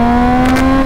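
A Triumph Street Triple 675 motorcycle engine holds a loud, steady high-pitched rev under throttle, close and alone for under a second.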